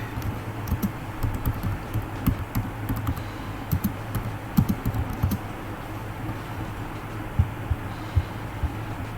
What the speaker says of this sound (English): So now we type what we're supposed to type.